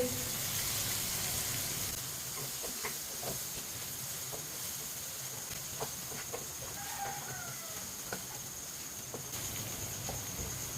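Eggs cooking with ridge gourd and spices in a pan give a low, steady hiss of gentle frying, with a few faint spoon taps as they are stirred.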